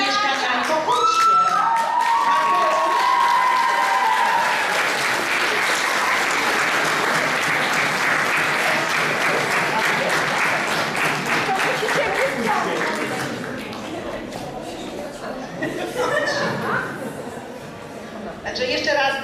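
Sustained audience applause at an ecology knowledge contest awards gala, a dense loud wash of clapping with some cheering that eases off toward the end.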